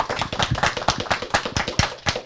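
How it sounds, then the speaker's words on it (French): Studio audience handclaps open a talk show: a small group clapping in quick, fairly even beats, close and moderately loud, with no speech over it. "Applaudissements,"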